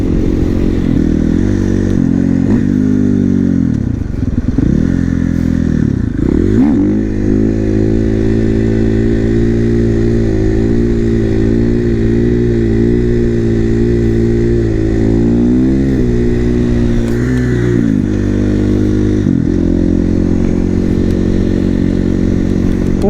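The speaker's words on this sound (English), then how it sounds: "If you guys have ever wondered what it's like owning a Supermoto, this is it." Supermoto motorcycle engine droning loud and steady while riding, with a few quick rev dips and pitch shifts as the rider throttles off and back on, plus some clatter and wind along the way.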